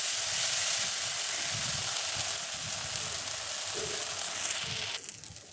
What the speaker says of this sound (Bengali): গ্যাসের ফ্লেম হাই রেখে মশলা কিন্তু ভালোভাবে কষাতে হবে।